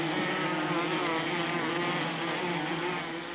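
A swarm of honey bees dumped at the threshold of a new hive buzzes continuously, a steady droning hum that stays close and even throughout.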